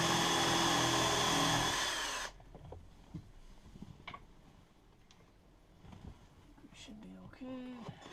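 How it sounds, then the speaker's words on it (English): A power drill bores holes in a boat, a loud high whine for about two seconds that cuts off abruptly, followed by quiet handling clicks and taps while people talk softly. "drilling holes in a boat"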